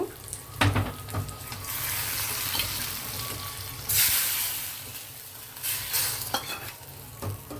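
Hot tempering is poured into tomato rasam and sizzles, followed by stirring and scraping in the pot with a few sharp clanks, a loud hiss midway, and water-like splashing noises throughout.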